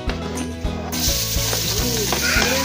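Garlic dropped into a hot pan bursts into loud, crackling sizzle that stays close and steady, with soft scraping stirs marking a loose rhythm.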